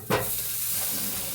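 Homemade village butter heats in a kadhai wok on a gas stove as it is rendered into ghee, giving a steady soft sizzle and hiss after a brief stirring scrape at the start.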